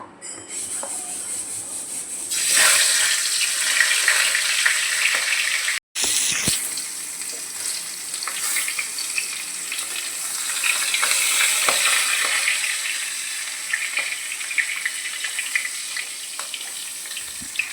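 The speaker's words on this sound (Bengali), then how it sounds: "মাছের মাথাগুলোকে ভালো করে ভেজে নিয়েছি" Fish heads fry in hot mustard oil in a pan, a loud, steady close-up sizzle that swells after a quieter start, with brief stirring clatters and a momentary cut partway through.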